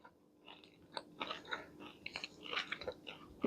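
Close, crunchy chewing of a chocolate chip cookie studded with M&Ms, with irregular bursts of crisp bites and mouth sounds over a few seconds, heard alone.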